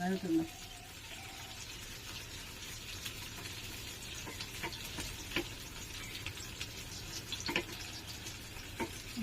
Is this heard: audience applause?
no